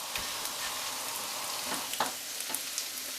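Spring onions fry in a wok being seasoned, giving a steady, hissing sizzle with scattered crackles and pops at moderate volume and no talking.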